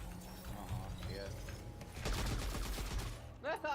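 Rapid bursts of gunfire in a shooter video game, a short rattling volley of shots over game background, with a voice speaking briefly near the end.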